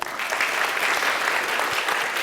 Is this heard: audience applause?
yes